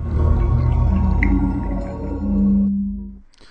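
SteamOS startup sound on a PC after a successful boot: a loud, rich synthesized tone that holds, swells and then fades to near silence, with no talk.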